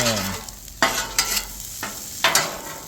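Fried rice being mixed on a 36-inch Blackstone griddle outdoors: a constant sizzle with several sharp spatula scrapes and clacks in an uneven rhythm, close and fairly loud.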